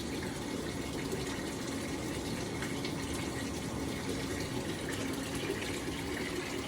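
An LG top-load washer with an agitator fills with water in a steady, even rush of flowing water that keeps going without a break, fairly quiet, with no voices.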